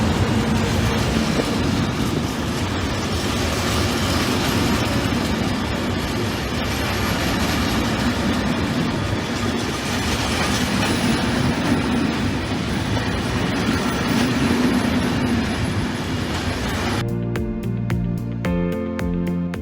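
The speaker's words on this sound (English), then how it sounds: "Fire trucks and other equipments carried by train." A train carrying fire trucks and other equipment passes close by with a loud, continuous rumble and clatter of wagons, ending abruptly near the finish.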